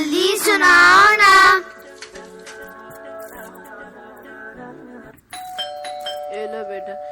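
A front-door doorbell chimes with sustained, ringing ding-dong tones after a burst of loud talk, then sounds again near the end, clear and close in a home drama scene.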